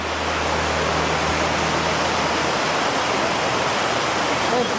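Cheyapara waterfall in Munnar, Kerala roars as a dense, steady rush of falling water, loud and unbroken throughout, with a low hum in the background at the start.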